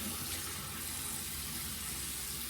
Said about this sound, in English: There, my water is finally hot.